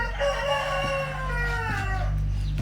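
Yellow-legged hens in a pen give a loud, close crowing call that rises and falls over about two seconds, over a low steady hum with no talk.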